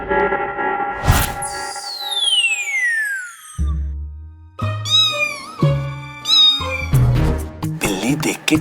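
A cat meows repeatedly in short, tonal cries of varying pitch, mixed with speech and swooping cartoon-like sound effects and music.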